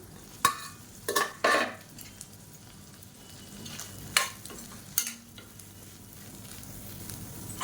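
Soya chunks fry in oil in a kadai, with a steady low sizzle and a few sharp stirring scrapes and clatters of a spoon against the pan.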